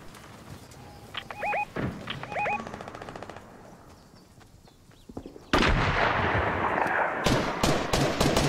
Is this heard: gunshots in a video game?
yes